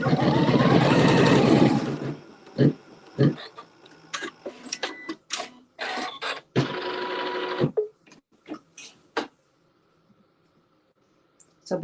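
A sewing machine tacks down the small center square of a mystery quilt block, running in one long steady burst then several short stitching bursts separated by clicks, handling noises and pauses, close and fairly loud.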